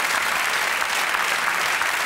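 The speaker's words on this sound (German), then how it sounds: "kleiner Applaus" Brief, loud burst of studio audience applause on a German TV talk show, dense clapping sustained evenly across the short moment without voices.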